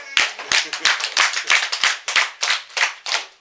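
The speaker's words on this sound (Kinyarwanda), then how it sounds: "Njye mbahaye amashyi yanjye." A single person claps by hand in a clear, steady rhythm, a dozen or so sharp, close claps spaced evenly, each one distinct against silence and with no talking.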